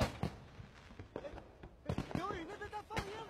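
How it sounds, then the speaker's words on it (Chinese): Fireworks are set off in a series of sharp, scattered cracks and pops, some close and loud, while people call out and talk between the bursts. "谁在放烟火？"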